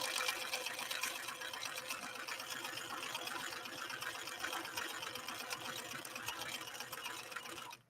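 A White Model 742 sewing machine runs an overlock stitch, a continuous rapid mechanical chatter of needle strokes held steady and fairly close, with no talk over it.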